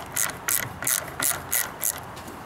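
Ratchet wrench loosening bolts while a fuel tank is swapped on a lift, six evenly spaced bursts of rapid clicking, close and clear with no talk.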